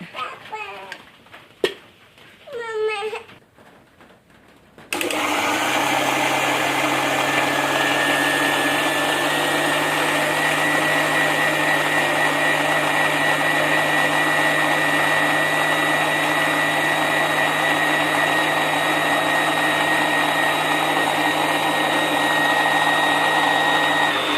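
A mixer grinder grinding onion paddu batter with water whirs loudly and steadily for most of the clip, starting abruptly after a few seconds of a nearby voice.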